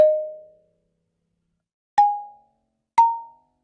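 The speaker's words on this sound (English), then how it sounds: "So I grabbed a kalimba that I had lying around the studio," Three plucked kalimba notes sound clearly and alone: one at the start, then two more after a pause, each with a sharp attack and a quickly fading, bell-like ring.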